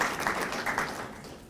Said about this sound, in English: Let's give them a round of applause for their great efforts with the fair.